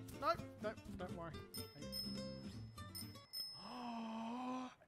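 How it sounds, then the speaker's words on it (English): A bicycle bell rings in the Amazing Frog video game, a bright metallic chime heard amid loud, excited talking and game sounds. "It's got a bell."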